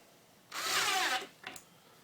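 A power drill drives screws into wood to secure a jigsaw mounted under a table, one sustained whirring burst of about three-quarters of a second followed by a short second burst, close and fairly loud.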